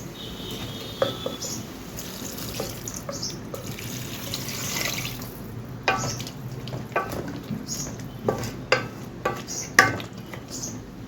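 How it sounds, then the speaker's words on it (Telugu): Water pours into a pan of brinjal dal after the tempering has fried, a rushing splash for a few seconds followed by scattered clinks and knocks of the pan and utensils. "ఇందులో మనం వాటర్ వేసుకుందాం."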